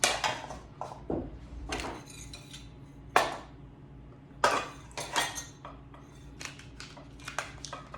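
Dishes and cutlery are gathered up in a kitchen, with irregular clinks, clatters and scrapes of plates and silverware close by and no voices over them.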